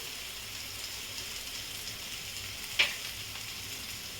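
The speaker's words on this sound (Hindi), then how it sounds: "इसे मैं अच्छी तरह चारों तरफ मिला देती हूँ और भून लेती हूँ।" Drumstick pods with salt, turmeric and spices fry softly in a pan on low flame, a faint, steady sizzle with one brief utensil clink.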